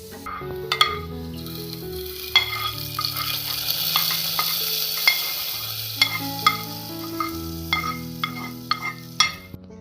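Fried shallots and cashews from a hot pan are poured into Kerala-style chicken stew, giving a continuous sizzle and bubbling with scattered clinks of utensils against the pot, close and fairly loud.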